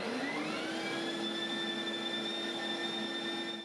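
A dust collection fan pulling air through a Dust Deputy cyclone, spinning up into a loud, steady whining roar with a rising tonal hum that levels off, close and continuous, with no talking.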